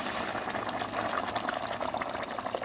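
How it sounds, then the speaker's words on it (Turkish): Cold water poured into a pot of rice being prepared for cooking, a steady close splashing and bubbling trickle that continues without pause. "Pirincimizi pişirecek kadar su ekliyoruz."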